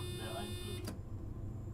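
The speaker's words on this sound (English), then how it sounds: "Oh, that's the Alt F4 alarm." A stream alert alarm buzzes loudly with a bright tonal drone for under a second, then cuts off abruptly, leaving low background hum.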